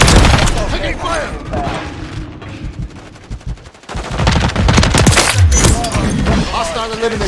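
Sustained automatic gunfire rattles loudly through a video game firefight, with dense bursts and a brief lull before the shooting resumes, under shouted in-game voice callouts.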